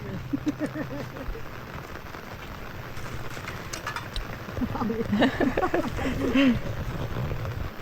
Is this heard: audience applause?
no